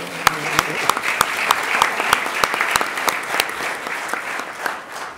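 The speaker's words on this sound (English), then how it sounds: "There's going to be a lot of clapping tonight." Applause fills a city board of mayor and aldermen meeting, a moderate room of people clapping steadily with distinct sharp claps standing out, and a voice may be heard over it.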